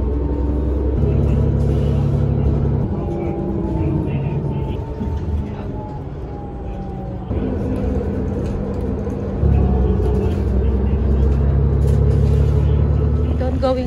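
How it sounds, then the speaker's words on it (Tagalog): A city bus in Canada pulls up at a stop in spring, a loud low engine rumble that dips and swells as it slows and idles, with someone speaking over the noise. "Ito na yung bus ko."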